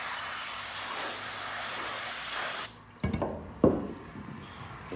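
Brake cleaner sprayed from an aerosol can onto an old trailer's wheel bearing: a loud, continuous hiss for a few seconds, then it stops, followed by a couple of close handling clunks and knocks.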